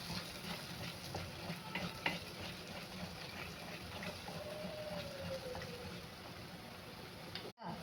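Tomato masala with a little turmeric stirred in a pan for paneer masala, a faint continuous sizzle with soft, steady stirring scrapes, quiet and close.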